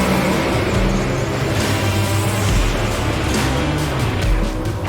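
Drag race between a Copo Camaro and a 2021 Dodge with a Gen 3 Hemi, a loud, steady roar of racing engines with a deep low rumble that holds throughout, no voices heard.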